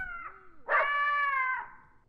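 A synthesizer mimics a dog in The Sims 4, a short sliding tone followed by a sustained, bright, howl-like note lasting about a second, played alone and fairly quiet.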